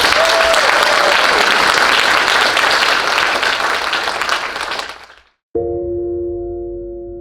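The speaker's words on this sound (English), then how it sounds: "Let's give Liz a round of applause" Banquet audience gives a loud, sustained round of applause, dense clapping from a large room that fades and cuts off, followed by a brief low hum afterward.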